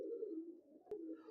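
A soft, low coo from Kasni pigeons rolls along quietly, with a short click partway through, then the cooing continues.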